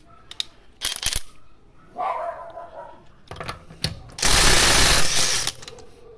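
Parkside PDSSA 20 Li A1 brushless cordless impact driver, a Performance model, running in short bursts, with clicks and rattles between them and one loud, sustained rapid hammering burst near the end, heard up close.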